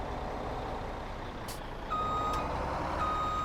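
Steady electronic reversing beeps from a vehicle backing in within Farming Simulator 17, repeating over a constant low engine drone, with a brief higher hiss partway through.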